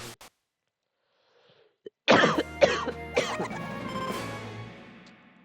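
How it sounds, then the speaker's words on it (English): A few short coughs at the start, then a loud burst of harsh, wheezy coughing and throat sounds that slowly trails off, close and alone. "I've been coughing a lot today."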